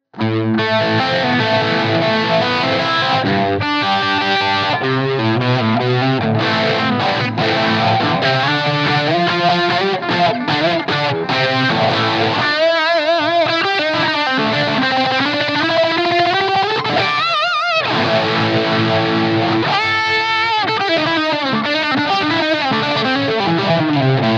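An electric guitar runs through a Blackstar St James amp plugin with a slow phaser and overdrive, giving a loud, sustained tone that sweeps and swirls. Riffs and held chords continue with short breaks and no talking.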